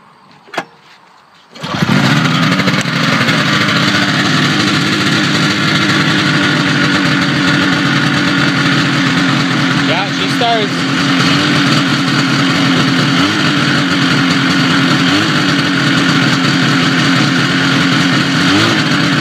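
Ski-Doo snowmobile left sitting all summer cranks briefly, catches, and settles into a loud, steady idle with slight fluctuations, running continuously up close with no talking.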